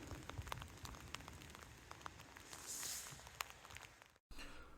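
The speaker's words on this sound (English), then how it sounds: "it's raining and it sucks" Steady rain patters at a wet campsite in Table Rock State Park, a soft, continuous hiss dotted with sharper individual drop taps, fairly quiet and close, with no voices, cutting out briefly near the end.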